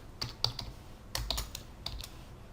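Computer keyboard keys clack as code is entered for a Python turtle graphics program, two quick bursts of close, crisp keystrokes with a short pause between them, no talking over them.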